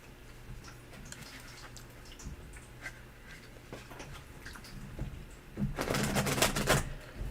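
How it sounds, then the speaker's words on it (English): Tarot cards being shuffled by hand give soft, irregular clicking riffles at a fairly quiet level, swelling into a louder burst of card flutter near the end. "Why am I shuffling?"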